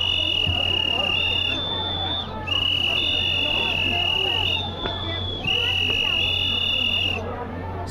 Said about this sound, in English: There's another crazy policeman coming with his whistle.